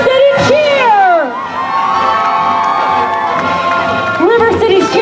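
Parade crowd cheering and shouting for a high school cheer team at a Veterans Day parade in West Sacramento, a loud, continuous roar of voices with whoops rising and falling, close and steady throughout.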